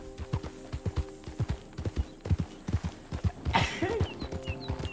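Horse hooves clop steadily in the Red Dead Redemption II video game, a close, rhythmic series of sharp hoof strikes that briefly pauses for a snort or breath before the walking gait resumes.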